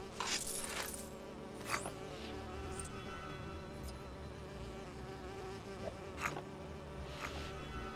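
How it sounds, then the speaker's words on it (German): Bees swarm around a beehive in Lego The Lord of the Rings, a dense, continuous buzzing drone that fills the scene steadily from start to finish. "Und da oben haben wir einen Bienenstock."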